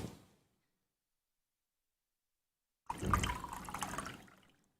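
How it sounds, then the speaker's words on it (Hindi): Water is poured from a glass into a hair protein mask mixture, a close splashing pour that starts after a silent gap and runs for about two seconds before tapering off, with a brief trailing sound at the start. "इसके अंदर हम जो है यहाँ से पानी डाल लेते हैं"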